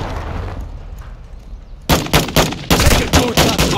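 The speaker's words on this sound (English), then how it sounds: "Throwing flash grenade!" In Call of Duty Modern Warfare 2 Domination on Shoot House, a flash grenade goes off amid rapid gunfire, a quiet stretch giving way to loud repeated sharp bursts close by.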